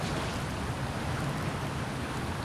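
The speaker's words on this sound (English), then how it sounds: "And it's a waterfall. Pretty loud, too." A waterfall in the survival game The Isle rushes in a dense, steady roar of falling water, loud and unbroken throughout with no talk.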